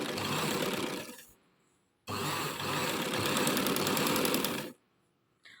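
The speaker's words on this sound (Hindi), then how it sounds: "तो यहाँ पे देखें, मैं सिलाई लगाना स्टार्ट करूँगी" A sewing machine stitches sleeve fabric for a puff-sleeved umbrella frock, running in two loud, steady bursts with a brief stop between them, then falling silent.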